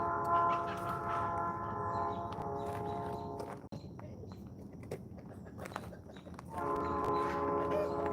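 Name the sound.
distant train passing about a mile away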